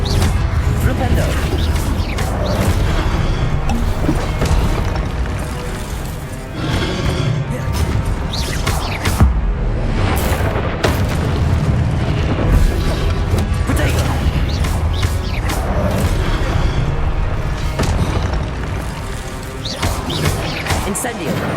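Flipendo spell casts and combat effects from the video game Hogwarts Legacy: repeated loud whooshing blasts, crashes and thuds in a dense, continuous battle mix, with voices heard among the effects.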